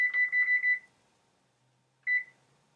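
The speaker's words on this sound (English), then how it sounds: "And I will set my timer." A kitchen timer beeps during a cooking class: a rapid burst of five high electronic beeps, a pause, then one more short beep, clear and close in a quiet room.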